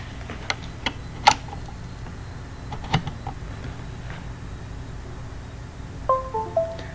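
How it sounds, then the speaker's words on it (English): A short descending electronic chime near the end as a device connects to a computer during installation of voice analyzer software, preceded by scattered soft clicks and ticks over quiet room hiss. "So this is the sound of device getting connected."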